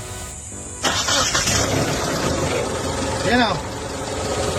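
A car engine on a mechanic's garage bench, running without a thermostat, cranks and catches, then settles into a steady close idle while someone talks over it.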